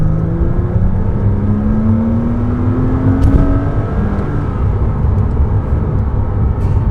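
A 2006 Porsche Cayman S pulls hard in second gear, its engine note climbing steadily as it builds revs, steady and close with broadband road and wind roar throughout.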